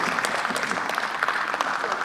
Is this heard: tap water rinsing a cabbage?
no